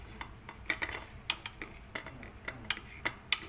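Spoon or utensil scraping and clinking against a metal idli mold while rava (semolina) idli are scooped out in a home kitchen, a series of short, close metallic taps and scrapes with no talking.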